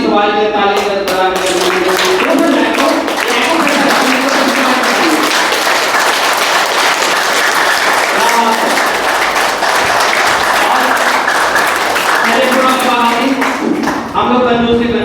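Sustained loud applause from a yoga session audience honouring a man named Subhash, steady dense clapping throughout with voices mixed in underneath.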